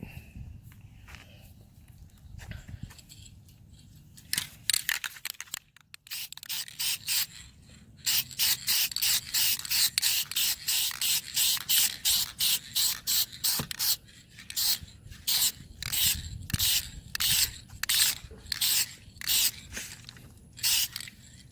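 Short aerosol bursts spray faded exterior trim on a 2007 Acura TL-S, a long hiss followed by many quick evenly spaced puffs, close and loud with no talk.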